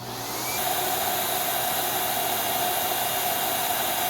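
A Simplicity Quicksilver vacuum cleaner switched on at its low setting, spinning up over half a second into a loud, steady whooshing roar with a constant motor whine.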